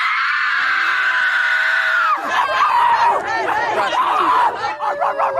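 Protesters at a bodily autonomy rally scream together in a loud, sustained cry lasting about two seconds, which breaks into excited crowd chatter, shouting and some laughter.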